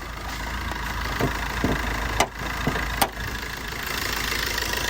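A Maruti Ritz car engine idles with a steady low rumble after starting, with a few faint clicks and knocks over the continuous running sound.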